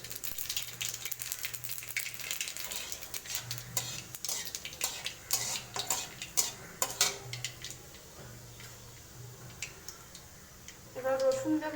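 Nigella seeds spatter in hot oil in a heated wok, giving a run of sharp, close ticks and crackles over a low steady hum, growing louder and denser near the end.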